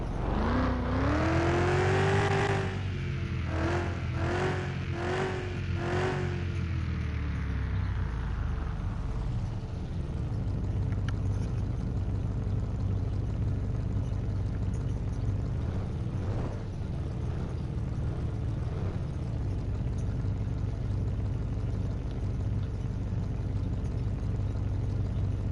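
A car engine in Car Mechanic Simulator 2021, with the Y pipe removed and exhaust running straight off the manifolds, revs up hard in several quick throttle blips, then drops to a steady rumbling idle that continues alone.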